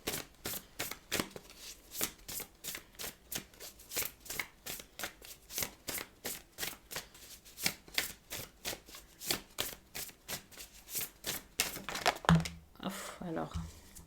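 Tarot-style cards are shuffled repeatedly for a card reading, producing crisp regular riffling bursts in a steady rhythm, close and fairly quiet, with a louder rustle near the end.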